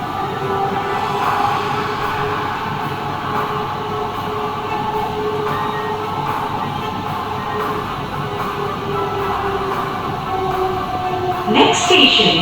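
Metro train running between stations, a steady close rumble and hum of the carriage in motion throughout, with a brief rattling clatter near the end.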